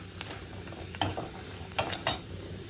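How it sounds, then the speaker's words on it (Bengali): Cashews fry in a pan for semolina halwa, a soft continuous sizzle broken by a few sharp clinks and scrapes as a spoon stirs them. "দেখো কাজুগুলো লাল লাল করে ভাজা হয়ে গেছে"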